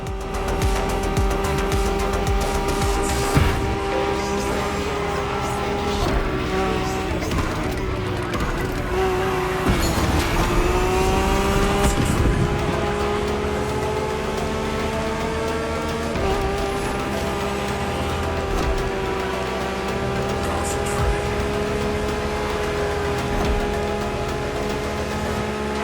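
A Lamborghini races in The Crew Motorfest, its engine a steady, loud drone with shifting pitch as it accelerates and changes gears, with no talk over it.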